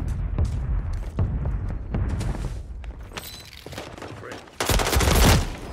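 Gunfire from the Warzone 3 video game bursts repeatedly throughout, with sharp close shots, rapid volleys and a loud heavy barrage near the end, set against continuous in-game background noise.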